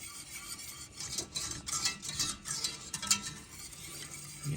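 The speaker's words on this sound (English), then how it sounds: "we want to keep whisking, keep it from sticking on the bottom" A whisk scrapes steadily around a pan of egg and milk casserole mixture heating on medium, a quiet, continuous rhythmic metallic stirring with light clinks.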